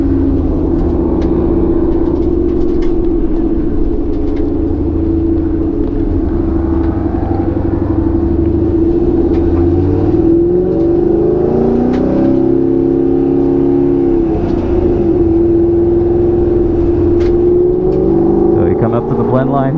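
Ford Mustang with a 2.3 liter TVS supercharger at 10 psi, its engine droning loud and steady on a race track at Roebling Road Raceway, the pitch rising and falling through gear changes, with someone talking over it.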